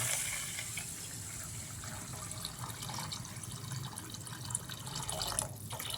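Water pours steadily into a vessel, a soft continuous splashing and trickling heard close by, with no talking.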